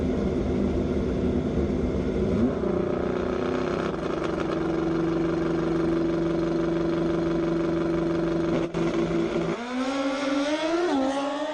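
A Suzuki Hayabusa motorcycle at Kansas International Dragway holds a loud steady high-revving drone on the line, then rips off in a launch with the pitch climbing through rapid shifts near the end.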